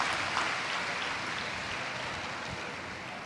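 A large crowd at a Shiv Mahapuran religious discourse in Varanasi applauds, a dense, continuous wash of clapping that holds steady throughout.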